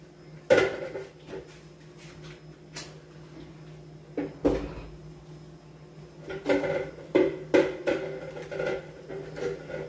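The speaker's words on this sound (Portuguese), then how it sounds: "Agora eu vou dar uma organizada aqui nessa louça para poder assar o frango." Dishes and kitchenware being sorted in a home kitchen, with scattered clinks, knocks and thuds of plates and pots, then a denser burst of close clattering toward the end.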